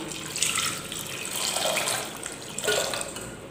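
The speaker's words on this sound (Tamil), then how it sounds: "இப்போ நல்லா தண்ணி விட்டுக்கலாம்" Water pours steadily into a metal pressure cooker over carrots, a continuous splashing rush that swells twice and then eases.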